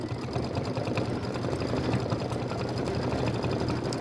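An embroidery machine sews a decorative stitch on a quilt block, running as a steady, close mechanical hum with a fast continuous needle rhythm for the whole stretch, no voices.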